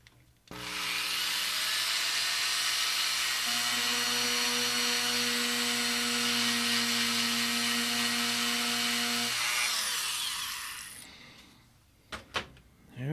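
Steady, loud scrubbing with an eraser tool on a circuit board during a BlueSCSI repair, a continuous buzzing rub with a droning tonal hum that holds for about nine seconds and then stops, followed by a few faint clicks.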